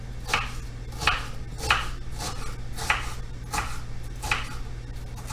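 Knife chopping through kielbasa into quarter-inch slices on a cutting board, a steady series of about eight distinct close thuds at an even rhythm over low background hum.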